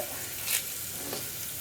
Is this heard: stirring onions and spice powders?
yes